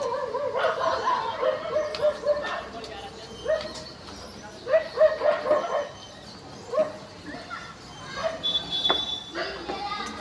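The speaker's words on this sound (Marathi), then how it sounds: "हे कुत्र्यांची भांडणं बाबा किती कुत्रे झाले" Multiple dogs bark, yip and snarl in bursts at a distance, with scuffling noises between the outbursts.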